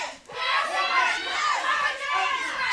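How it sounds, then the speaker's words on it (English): Dense crowd at a women's wrestling match roaring and cheering throughout, loud and close, with high-pitched shouts rising and falling and no clear talk. "Cheering on her lady."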